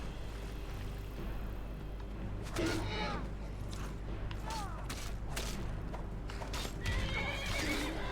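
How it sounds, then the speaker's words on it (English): Horse whinnying and hooves clopping in the video game Skyrim, a few short neighs over steady game ambience and distant combat sounds, with someone talking at times. "Oh, there goes my horse."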